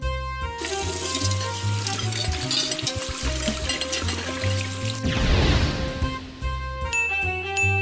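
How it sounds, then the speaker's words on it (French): Running water splashes into a sink while dishes clink and tinkle, with musical tones playing underneath throughout. "La chèvre lava la vaisselle"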